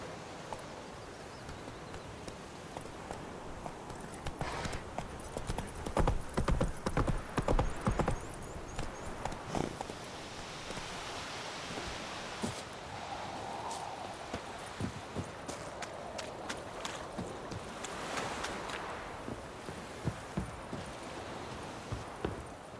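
A horse's hooves clip-clop in The Witcher 3 video game, a steady rhythmic run of hoofbeats that grows busier in the middle, with a brief whinny and rustling around it.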